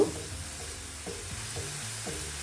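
Spices for a green egg curry with spinach frying in a pan, a steady close sizzle under regular scraping strokes of a spoon, about one every half second, with no talking.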